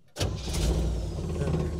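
An old Willys Jeep idles steadily nearby, its low engine rumble starting abruptly and then holding constant as the clutch is pressed and the gearbox is shifted into reverse.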